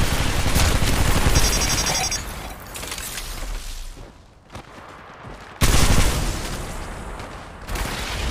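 Dense, loud bursts of gunfire from the mobile battle royale game Apex Legends Mobile, rapid automatic volleys with sharp impacts, a brief lull, then another heavy barrage that stays up close.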